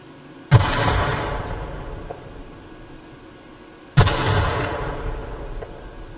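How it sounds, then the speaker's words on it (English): Two explosions in the video game The Outer Worlds, each a sudden sharp bang followed by a long rumbling report that decays over a couple of seconds, spaced about three seconds apart. "Do y'all hear that report from the explosion?"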